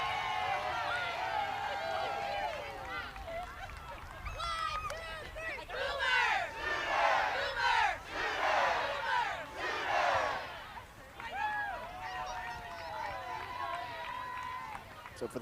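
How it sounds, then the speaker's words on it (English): Oklahoma Sooner softball fans cheering after a home run at Rocky Johnson field in Lubbock, a crowd swelling into loud shouts and whoops for several seconds before settling back to steady babble. "the Sooner fans can cheer following a home run here at Rocky Johnson"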